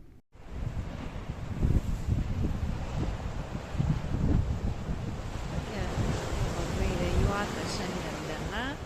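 Sea waves surge and wash steadily along a Spanish shore on a windy day, loud and continuous, with gusts buffeting the microphone.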